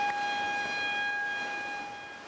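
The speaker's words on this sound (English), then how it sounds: "they started with a warning siren." A warning siren sounds at a dam spillway on the Walnut River, a steady sustained tone heard at a distance, faint and alone over a soft background wash.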